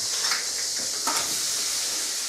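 Bacon going into a hot pan for bread dumplings, a steady loud hiss and sizzle that holds evenly throughout with a few small crackles, no talking.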